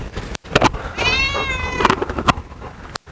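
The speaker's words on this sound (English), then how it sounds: "It's my level one luxurious leopard cat, AKA Bengal." A Bengal cat gives a loud, drawn-out meow close by, with a few sharp knocks and movement sounds around it.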